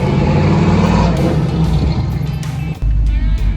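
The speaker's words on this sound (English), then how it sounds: "we're coming up to our first stoplight, so we might as well put a little bit of aggression into the brake" A restomod Chevrolet C10 pickup with power-assisted brakes and original patina paint rumbles loudly from inside the cab, its low engine drone easing as it slows hard for a stoplight, with a brief dip and a thump near the end.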